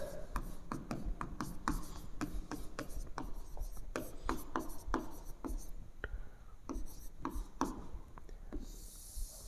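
Chalk or pen strokes scratch across a board in a physics lecture, a quick irregular series of short rasping taps and rubs, close and fairly quiet with no talking.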